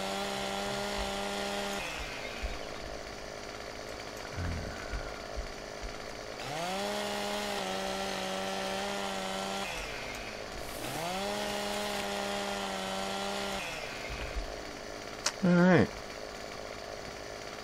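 A chainsaw in the Farming Simulator 17 game revs and cuts a tree in three long bursts separated by idle pauses, ending with a brief high whine; someone speaks briefly.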